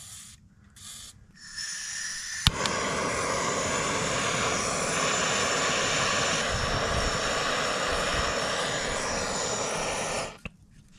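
A DeWalt DCF900 impact wrench works to free a stubborn axle fastener on an old trailer, with a few brief starts and then one loud, continuous hammering run lasting around eight seconds before it stops abruptly.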